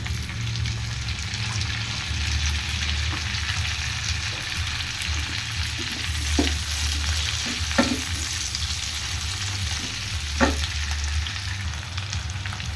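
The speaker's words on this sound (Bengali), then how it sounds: "পেঁয়াজগুলো আমার হালকা ভাজা হয়ে গেছে" Onions fry lightly in oil in a pan, already used for frying chicken and ginger, with a continuous close sizzle over a low hum and a few sharp clicks from stirring.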